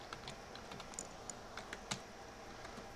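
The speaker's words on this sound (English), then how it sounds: "Put in the password." Quick, light keystrokes on a computer keyboard as a password is entered at a Fedora Linux 22 login screen, a sparse irregular run of clicks close by, with no one speaking.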